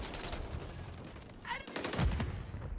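Gunfire crackles in a Modern Warfare 3 multiplayer match, a few bursts and shots over a busy game soundscape, moderately loud with a thump near the end.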